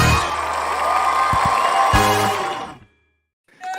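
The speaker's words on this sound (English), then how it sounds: "Crowd goes wild." A studio crowd cheers and claps loudly during a live packaging talk show broadcast, a sustained roar with a few sharp whoops, cutting off abruptly near the end before a brief burst of sound.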